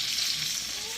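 Lamb chops browning in butter and olive oil with garlic and onion crackle in a steady, close sizzle with no pauses.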